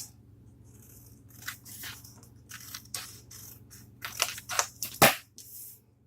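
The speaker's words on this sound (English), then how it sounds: "So what I do is I cut out the edges, as you see." Scissors snip along the edges of thick paper for a giant paper rose, giving a series of close crisp cuts and rustles that grow louder and quicker toward the end, with no talking.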